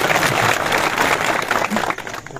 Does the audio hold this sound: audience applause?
yes